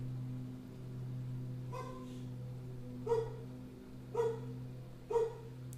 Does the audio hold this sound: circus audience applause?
no